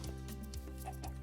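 Chickens clucking in Minecraft, a few short clucks over a steady background hum, moderately loud and close, with nobody speaking.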